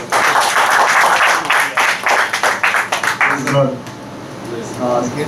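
An audience at a church farewell fellowship claps for the women's ministry, a loud dense round of applause that breaks into scattered individual claps and fades after a few seconds.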